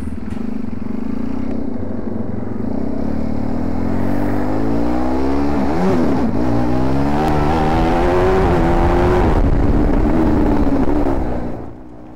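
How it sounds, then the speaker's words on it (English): An ID Engine shifter kart races around the TT Junior Track at Assen, its loud, close engine droning and revving up through the gears with rising and falling pitch, steady and alone with no talking. "welcome back on board the ID Engine shifter kart"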